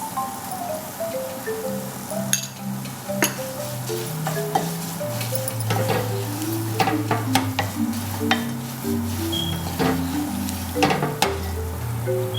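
Crushed chillies and salt sizzling in a frying pan for fish pickle, a steady oily hiss with scraping stirring strokes and light clinks, while background music plays throughout.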